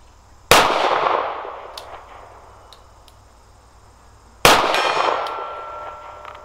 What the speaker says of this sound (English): let's just see if I can hit that silver gong here at 50 yards